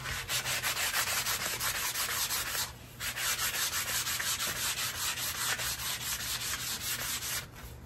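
Steady back-and-forth rasp of 320 grit sandpaper worked over the rawhide backing of a self-bow, close and continuous with one brief pause partway through.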